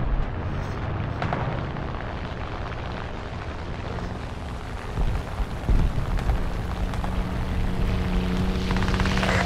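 Aircraft flying in War Thunder, a combat game with German Panzer IV G and F2 tanks and an incoming bomber: a steady, loud engine drone and rumble fills the scene, with a few thuds and bursts midway.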